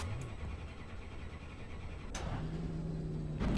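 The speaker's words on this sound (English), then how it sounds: "it feels really weird to hear a Toyota with a V8 that sounds like that" The V8 engine of a Toyota race car on a small oval in a racing sim hums at a low, steady pitch, then rises in tone as it picks up revs, sounding fairly close and continuous.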